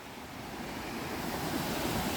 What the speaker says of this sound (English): There's a view of the overflow on the left.